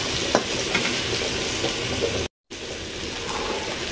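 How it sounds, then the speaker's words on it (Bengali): Ivy gourd (kudri) fries in a pan with a steady, close sizzle and crackle, with light stirring clinks, broken by a brief cut of silence partway through. "আপনাদের সঙ্গে কথা বলতে বলতে আমার কুদ্রি ভাজা প্রায় হয়ে এসেছে।"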